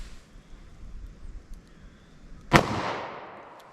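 A single sharp gunshot from a .327 Federal Magnum pocket gun cracks out during a hard cast ballistic test, loud and close, with a decaying echo after quiet outdoor background.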